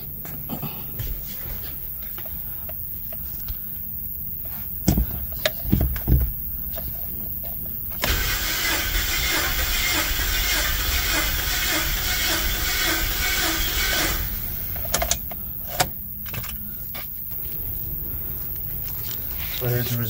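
A 2003 Mazda Protege with 105k miles cranks on its starter during a compression test with a gauge fitted to cylinder 1. The steady, churning cranking runs for about six seconds mid-clip, with talking before and after.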